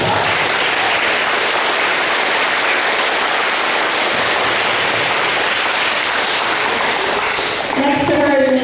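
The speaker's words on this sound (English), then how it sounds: "Let's give Ms. Klink a round of applause." A crowd at a fifth-grade graduation ceremony claps loudly and continuously for a teacher, a thick sustained patter of hands, with a voice and faint tones emerging near the end.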